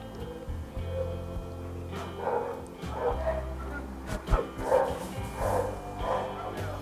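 Dogs barking at an animal rescue shelter, a series of muffled barks and yips rising in the second half over a steady background hum, moderately distant.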